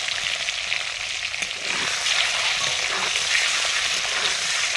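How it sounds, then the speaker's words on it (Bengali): Homegrown country chicken eggs fry lightly in a pan with a dense, continuous sizzle that swells slightly partway through, loud and close with no voices. "ডিমগুলো হালকা ভেজে নিচ্ছি।"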